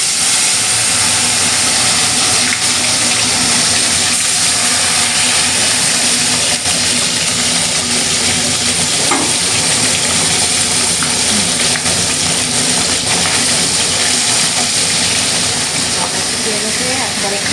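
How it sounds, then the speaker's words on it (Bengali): Spice-coated snakehead fish goes into a hot, smoking wok and fries with a loud, steady hiss and sizzle that runs without pause throughout. "কড়াই গরম হয়ে গেছে, ধোয়া উঠছে, এবার মেজে দিয়ে দিচ্ছে মাছটা"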